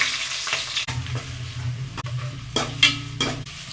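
Shallots, curry leaves and green chilli sizzle in sesame oil in a pan for curry leaf rice, with a spoon scraping and stirring in several sharp strokes over a steady frying hiss.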